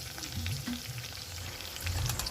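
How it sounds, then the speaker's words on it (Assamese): Local chicken fries in a pan with a close, steady sizzle and crackle, with small bursts of spattering and no talk. "আগতে আপুনি চিকেনখিনি ভালদৰে ভাজি ল'ব"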